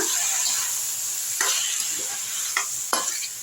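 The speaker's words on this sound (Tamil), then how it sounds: "இப்போ தக்காளி எடுத்து போட்டுக்கலாம் நல்லா வதக்கி விட்ருங்க" Tomatoes sautéing with softened onions in a pan, a bright steady sizzle with a few distinct scrapes of a spatula, close up and free of speech.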